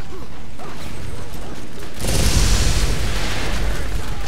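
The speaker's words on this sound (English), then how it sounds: "We both threw our grenades, and they both exploded in this same posse." Grenades go off in the Borderlands video game, a dense roaring blast that swells suddenly about halfway through and keeps rumbling loudly after a quieter stretch of mechanical game noise.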